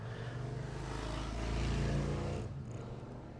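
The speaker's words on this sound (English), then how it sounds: "And a motorcycle rode by. Or a car with loud pipes." Motorcycle or car with loud exhaust pipes passing by outside an open window, a faint distant rumble that swells to a peak and fades away, with no talk.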